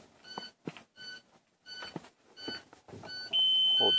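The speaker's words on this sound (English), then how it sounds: "and disarm my student alarm." A school bus student alarm beeping while being disarmed, a short run of separate electronic beeps with clicks between them, then a steady higher tone at the end.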